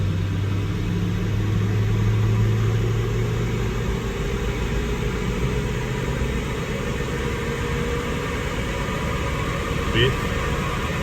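A Toyota Landcruiser 200 Series engine pulls away from a stop and accelerates through the gears, a steady low rumble with faint rising tones, heard from inside the cabin while someone talks.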